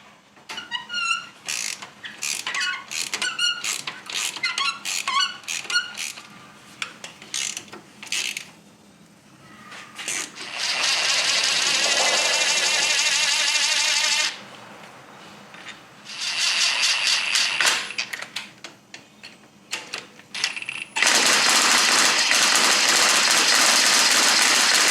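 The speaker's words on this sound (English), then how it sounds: "I'm gonna get these bolts out real quick." Bolts being backed out of the clutch assembly on a Polaris RZR XP 4 1000 UTV, with bursts of ratcheting and whirring driver runs separated by pauses, some long and loud, close by.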